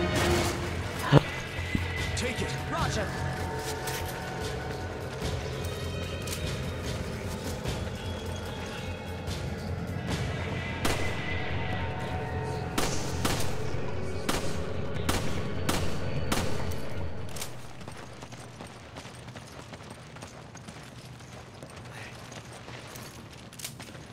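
Gunfire in Resident Evil 5, with sharp repeated shots and crashes cracking over a loud, busy game soundtrack for most of the stretch before everything drops to a quiet room tone near the end.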